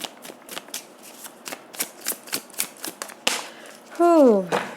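Tarot cards are shuffled in crisp, rhythmic riffles, about a dozen sharp close flicks in a row, while a voice speaks throughout.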